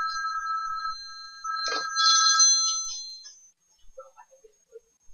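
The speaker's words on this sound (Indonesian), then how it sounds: "Maaf, ada telepon." A telephone ringtone sounds with a steady electronic trill, then a brighter burst of tones that fades out, followed by a few faint clicks and taps in an otherwise quiet room.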